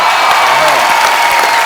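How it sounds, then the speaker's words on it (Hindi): Studio audience applause on a TV comedy show during a musical night, a dense, steady wash of clapping and crowd noise filling the whole moment at close range. "और फिर ताड़ी बज गई है"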